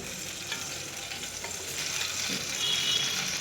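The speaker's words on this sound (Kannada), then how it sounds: "ಇವಾಗ ಎಣ್ಣೆ ಹಾಕ್ಬೇಕು" Hot oil crackles and sizzles in a frying pan as sprouts palya gets underway, a steady hiss that swells slightly louder toward the end, with no talk.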